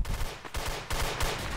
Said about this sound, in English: Why are you shooting at me?